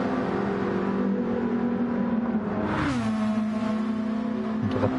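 A race car engine at Le Mans in a racing video game, a steady loud engine drone that sweeps past with a pitch drop midway, then settles into a sustained hum with no talk.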